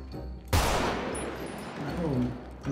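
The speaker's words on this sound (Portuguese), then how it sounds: "Que isso, meteram o tiro." GTA RP game gunfire: a sudden loud burst of shots breaks over the background, then a sustained noisy rattle decays away, close and harsh with no speech over it.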